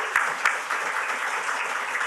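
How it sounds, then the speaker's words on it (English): Audience applause at the Melbourne Prize event, a steady patter of many hands clapping at moderate volume, with a couple of sharp louder claps near the start and no talk over it. "I want to give you a big round of applause"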